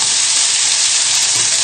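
Lamb fries in a hot pan with a steady, close, bright sizzle that holds at an even loudness throughout, with no talking over it.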